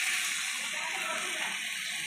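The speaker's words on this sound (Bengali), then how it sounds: "এবার আমি শুক্তোটাই জল দিয়ে দেবো।" Water poured into a pot of Bengali shukto vegetable curry, a soft steady splashing trickle lasting about two seconds, quiet and close.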